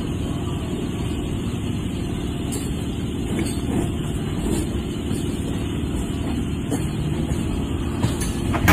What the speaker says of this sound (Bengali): আমাদের ট্রেন তার গন্তব্যের দিকে এগিয়ে চলল।